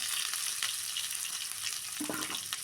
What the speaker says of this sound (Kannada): ಈರುಳ್ಳಿ ಸ್ವಲ್ಪ ಕರ್ಬೇವು ಹಾಕೊಂಡು ಸ್ವಲ್ಪ ಎಣ್ಣೆಯಲ್ಲಿ ಈ ಥರ ಫ್ರೈ ಮಾಡ್ತೀವಿ